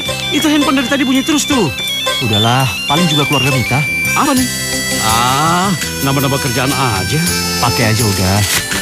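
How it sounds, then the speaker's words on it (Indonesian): A mobile phone ringtone plays loudly and steadily throughout, a bright repeating melodic tone running under continuous conversation between people. "Itu handphone dari tadi bunyi terus tuh."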